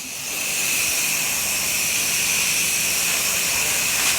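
A pressure washer sprays water at close range while cleaning a deck and house siding, a steady loud hiss that rises within half a second and holds evenly throughout, with no voices.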